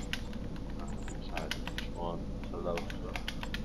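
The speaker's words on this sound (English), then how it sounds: "Coco's typing." Fast computer-keyboard typing clicks continuously at close range over a dense background hum during a Grand Theft Auto V session, with some brief murmured sounds partway through.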